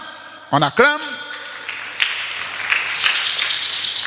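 A church congregation breaks into applause during a sermon, a swelling spread of many hands clapping that builds and continues after a preacher's short spoken line at the start.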